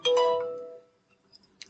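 A phone ringtone sounds once indoors, a short bright electronic chime that fades within a second, followed by a few faint clicks and a small tonal blip.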